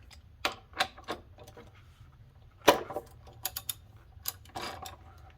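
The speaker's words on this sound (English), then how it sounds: "I've got my torque wrench here set to 37 foot-pounds. Go ahead and get this thing tightened up." A torque wrench tightens a new upstream oxygen sensor on a Mini Cooper to 37 foot-pounds, giving a run of sharp, close clicks and ratchet ticks, spaced irregularly, with one louder snap partway through and further quick clicks toward the end.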